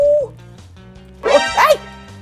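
A dog in the Roblox game 99 Nights in the Forest gives two close, loud yipping barks in quick succession, set over a soft, steady game music bed.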